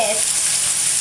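Eggs sizzle and fry in a hot pan for fried rice, a steady, close hiss of frying that runs unbroken through the short moment without any talk.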